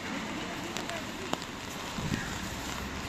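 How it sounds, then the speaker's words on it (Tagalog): Rain falls outdoors in steady, even hiss, with faint occasional taps and rustles mixed in. "Umuulan eh"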